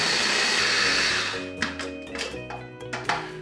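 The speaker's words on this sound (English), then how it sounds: "I put Panko breadcrumbs into a mini food processor with some herb de Provence and some salt and blitzed it until it was a fine powder." A mini food processor whirs loudly as it blitzes panko breadcrumbs with herbes de Provence and salt, a steady motor drone that stops, followed by several short pulses with thunks.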